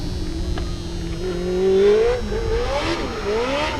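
A Legend race car spins donuts at Irwindale Speedway, its engine whining and revving in rising and falling sweeps, steady and fairly loud, with tire and crowd noise beneath.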